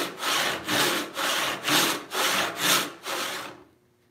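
Hand saw resawing an 8-inch wide walnut board, seven rhythmic rasping strokes back and forth, loud and close, with no voices before the cutting stops.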